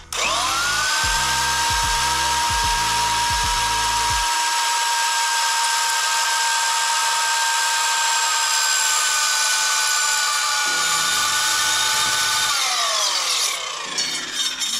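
A BLUEROCK 4Z1 handheld concrete core drill grinds loudly into a wall with a steady high whine and gritty rasping, running continuously before winding down near the end.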